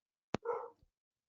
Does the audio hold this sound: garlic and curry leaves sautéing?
no